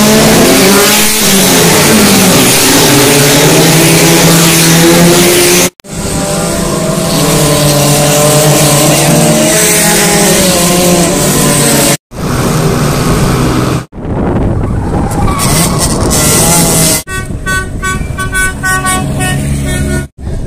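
Race cars revving at a national-level car race, loud close engine roars and rising revs in several segments, with horn-like tones and crowd noise, abrupt cuts between shots.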